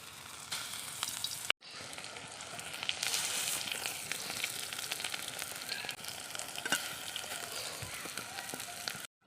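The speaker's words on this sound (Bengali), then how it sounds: "বড়াগুলো ছেড়ে দিচ্ছি" Loud, crackling sizzle of lentil fritter batter dropped into hot oil, starting abruptly after a brief gap and continuing close and steady with sharp pops.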